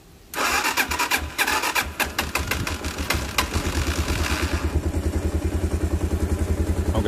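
After a brief quiet, a Lexmoto Venom 125 motorcycle engine with a bogging fault cranks and fires up loudly, then settles into a steady, rhythmic idle chugging close by.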